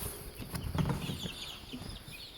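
Buff Orpington chickens clucking softly nearby in a yard, a few low murmuring clucks and scattered chirps over outdoor background noise.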